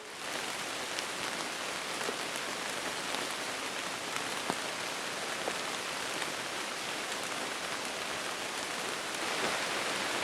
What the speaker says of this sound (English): it rained off and on the rest of the day and through the night